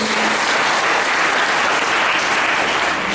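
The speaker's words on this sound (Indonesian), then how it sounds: "Berikan tepuk tangan untuk darah Yesus." Sustained applause from a large crowd at a church seminar, dense and even clapping throughout, fairly close.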